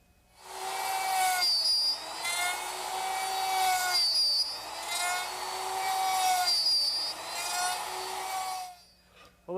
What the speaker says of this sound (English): slide them in and cut the pins with the router